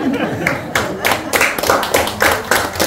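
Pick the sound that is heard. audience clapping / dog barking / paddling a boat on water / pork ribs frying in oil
audience clapping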